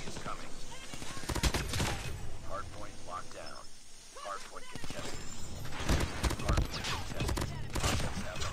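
A Cordite gun firing in a Call of Duty match, heard as loud, fast automatic bursts in clusters, with excited players talking over the shooting.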